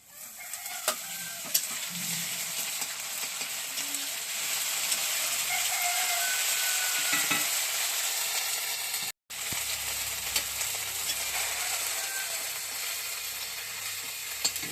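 Ginger paste and onions with cumin seeds fry in a pan as they are stirred, giving a continuous sizzle with scraping spoon strokes. The sizzle swells louder midway, breaks off for an instant and then carries on.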